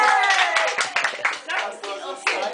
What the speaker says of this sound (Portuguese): Aplaude, aplaude.